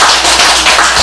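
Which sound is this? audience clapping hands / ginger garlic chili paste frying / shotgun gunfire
audience clapping hands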